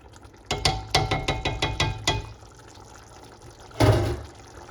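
Oyster sauce being stirred into a pasta bake sauce for pastitsio, with a rapid run of near, wet scraping strokes from a spoon in the pot, then a pause and one final louder stir.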